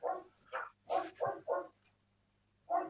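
A dog barks in a short burst of about six sharp woofs, loud and close, with a brief gap before the final bark and no talk over it.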